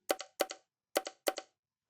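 Drill beat bongo pattern programmed in FL Studio: four crisp, dry bongo hits in two quick pairs with a gap between them, clean and isolated, fairly quiet, with no voices.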